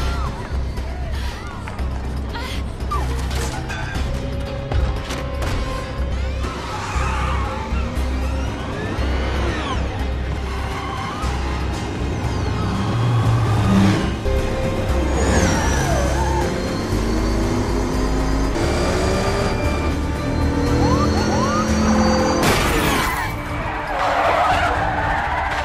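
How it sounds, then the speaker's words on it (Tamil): A film car chase fills the scene with skidding tyres, revving engines and crowd babble, loud and continuous, with sweeping siren-like tones rising and falling throughout. "பயங்கரமான ஒரு கார் சேசிங் சீனுக்கு அப்புறம் இவன் அந்த போலீஸ்காரங்க கிட்ட இருந்து தப்பிச்சிடறான்."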